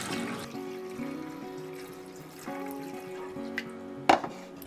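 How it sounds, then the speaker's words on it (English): Water running and pouring into a pot holding eggs at a home stove, a steady close liquid wash with faint drips, a short splashy burst near the end. "Place your eggs in a pot, and you'll want to cover with water so that they're covered by about an inch of water"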